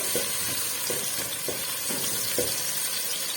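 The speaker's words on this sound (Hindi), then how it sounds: "ये देखें प्याज फ्राई होना शुरू हो गई है।" Sliced onions fry in a pot of oil, a steady soft sizzle broken by a few regular scraping stirs of a spoon against the pot.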